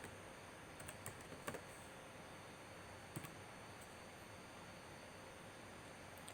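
Computer keyboard keys tapped in short sparse clicks at a low level, with a few isolated keystrokes and small bursts scattered over a steady hiss of background noise, no voices present.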